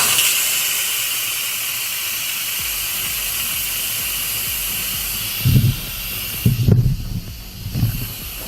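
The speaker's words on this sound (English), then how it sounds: "We're going to release the pressure." Instant Pot pressure release valve venting steam, a loud, steady close hiss running continuously, with a few low thumps and bursts near the end as the flow sputters.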